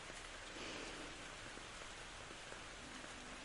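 Steady rain falls as a dense, even hiss of broadband noise that stays constant throughout, with faint scattered drops and no voices.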